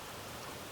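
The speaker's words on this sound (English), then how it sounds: "we get rain like this" Rain falls steadily in Texas, an even, hissing wash of drops that sits at a moderate distance with no other sounds.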